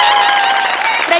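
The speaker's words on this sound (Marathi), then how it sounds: "प्रचंड टाळ्या." A dense burst of audience applause fills a comedy stage show, loud and continuous from start to finish over the brief moment.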